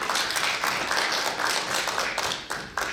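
A conference audience at a panel discussion applauds, a dense, sustained patter of many hands clapping at once that fills the whole stretch with little variation.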